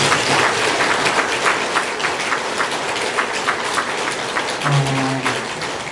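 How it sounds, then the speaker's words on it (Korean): Church congregation giving a round of encouraging applause at a pastor's installation service, a thick, even patter of many hands clapping continuously throughout, with a faint low voice near the end. "그럼 목회 잘하시도록 격려의 박수 한번"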